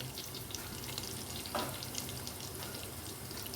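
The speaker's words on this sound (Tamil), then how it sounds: "ஒரு 1 மினிட் வதக்கிடலாம்." Sliced onions and green chillies sauté in a pan, giving a faint, continuous frying hiss with soft clinks and stirring scrapes, no voices.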